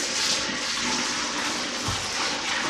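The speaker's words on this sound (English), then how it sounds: "So I'm gonna dump it down the sink" Dirty water from mopping a kitchen tile and grout floor rushes down a sink in a steady, loud, broadband gush with no voices.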